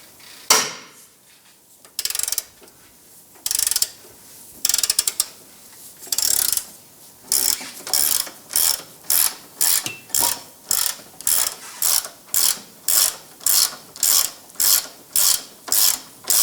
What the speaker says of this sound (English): Using a 15mm socket and ratchet, we're going to go ahead, loosen, and remove this forward control arm bolt.